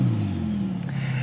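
A Ferrari SF90 Stradale supercar engine revs loudly and close by, a steady mid-pitched drone holding through a brief blip with no voices present.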